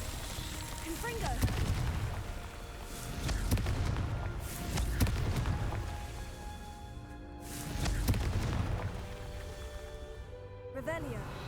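Fiery Confringo spell blasts go off in the video game Hogwarts Legacy, giving several rumbling booms that swell and fade in waves. Game sounds and voices run alongside them.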